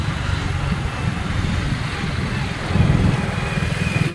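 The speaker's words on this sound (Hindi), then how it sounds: "तो अभी बाइक चला रहा है रुशान और हम वहीं पे जा रहे हैं" Motorcycle ridden on a road on a sunny, cool day, its engine droning steadily close by with a low rumble that swells slightly near the end, mixed with wind noise.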